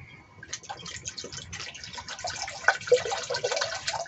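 Water poured from a container into a potted philodendron, a soft continuous splashing and trickling that grows a little louder toward the end, close by with no talk.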